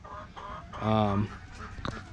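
A chicken gives a loud, drawn-out cluck in the middle, with softer background sounds before and after.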